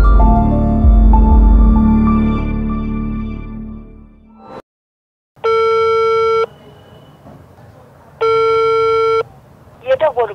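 A telephone call goes unanswered: after a stretch of music and a brief silence, two long steady network tones sound about a second each with a gap between, and a voice message begins at the end.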